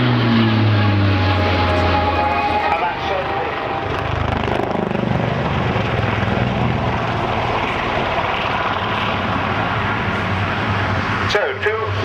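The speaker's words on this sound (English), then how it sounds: "So, 2 Lynx HAS-3s of the Royal Navy, of number 702 Naval Air Squadron, based at Yeovilton" Two Royal Navy Lynx HAS-3 helicopters of 702 Naval Air Squadron fly at the RAF Cosford air show, a loud continuous rotor and engine roar with low throbbing hum, under a public-address commentator's voice.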